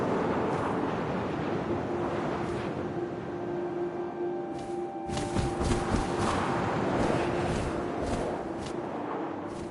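Steady wind blowing through an outdoor scene in the video game What Remains of Edith Finch, a continuous broadband rush that swells slightly midway, with faint tonal game ambience underneath and no talking.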